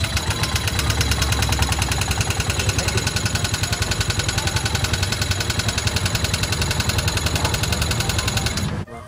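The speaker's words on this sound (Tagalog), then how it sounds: "biglang namatay ang makina. May malaking tunog na parang may umpog" A freshly overhauled engine runs with a steady, loud, rapid rhythmic chatter for several seconds, then cuts out abruptly near the end with a short clunk and falls quiet.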